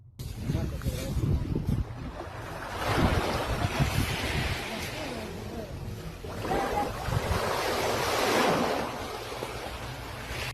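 Ocean surf on a Mexican shoreline swells and breaks in two broad washes of rushing water, with gusty wind buffeting the microphone and a low rumble underneath.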